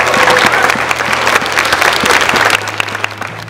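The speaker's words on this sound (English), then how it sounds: "Can we give them a round of applause?" A large audience applauds student athletes at a girls and women in sports event, a dense, steady wash of many hands clapping loudly throughout, with faint low hum underneath.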